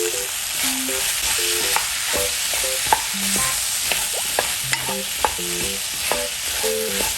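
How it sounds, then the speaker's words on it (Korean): Gochujang and chili flakes being stir-fried with potatoes in a pan for a Korean potato jjageuli stew: a steady sizzle with repeated scraping and stirring clicks of a utensil against the pan, close and fairly loud, with no voices. "고추장도 이렇게 같이 볶으면 좀 더 맛있습니다."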